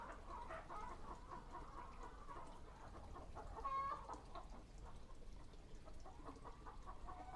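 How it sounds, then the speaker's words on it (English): Chickens clucking on a background audio track, a steady stream of soft overlapping clucks at moderate distance with a brief louder squawk midway, no speech. "Am I hearing honest to God chickens?"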